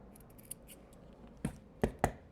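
Scissors snip through pieces of duct tape in a few sharp, close cuts, one lighter snip early and then three crisp clips near the end, in a quiet room.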